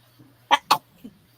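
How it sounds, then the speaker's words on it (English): Two sharp, close sneezes burst out about a fifth of a second apart, followed by a fainter, shorter exhale or sniff, from a woman sitting indoors over a steady low hum. "I got to sneeze"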